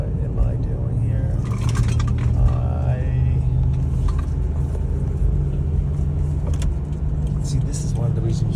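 A car cruising on the road, heard from inside the cabin as a steady, loud low rumble of engine and tyre noise that holds evenly throughout.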